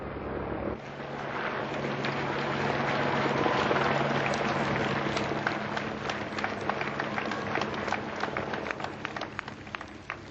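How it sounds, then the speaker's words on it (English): Crowds lining the route applaud as Princess Diana's hearse passes during her 1997 funeral procession, a broad outdoor wash of clapping that swells and fades over several seconds, with wind buffeting the microphone. "There was silence save for applause as the hearse nudged its way through the banks of mourners."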